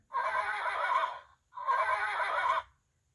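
A horse whinnies twice in a row, each neigh long, loud and close, with a brief quiet pause between the two calls and nothing else around them.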